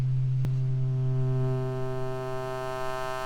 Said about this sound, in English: now I'm going to sweep the band up and you're going to hear the harmonics come in